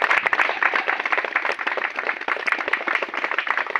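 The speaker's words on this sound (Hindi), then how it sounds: "ताली बजाइए आप लोग।" Crowd applause fills a village gathering where guests are garlanded, many hands clapping in a dense, continuous patter that stays loud and steady throughout.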